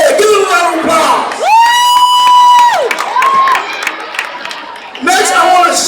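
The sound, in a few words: crowd applauding and cheering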